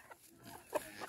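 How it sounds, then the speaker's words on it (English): A backyard rooster gives a single short cluck at close range, a brief loud note standing out over quiet farmyard background noise. "Hello, rooster."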